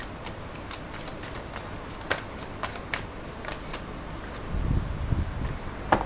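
Moonology tarot cards are shuffled by hand, producing a quick series of crisp riffling snaps and soft slides, close and fairly quiet with a faint background rumble and no speech.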